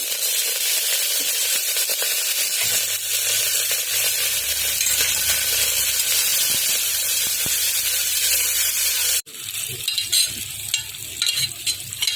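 Mustard seeds, cumin, urad dal and curry leaves crackle and sizzle loudly in hot oil for a gongura-sesame dish, a steady dense hiss throughout that briefly cuts out and then resumes more sharply near the end.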